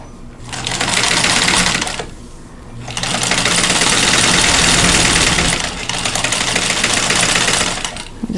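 An electric sewing machine stitches pieces of fabric in three loud, continuous runs of rapid mechanical whirring, broken by short pauses. No one speaks.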